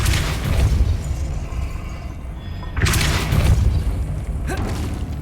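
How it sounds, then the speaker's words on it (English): Depulso force spell cast in Hogwarts Legacy, heavy booming bursts with whooshing impact tails, one at the start and another near three seconds, followed by a sharper burst toward the end. "Depulso."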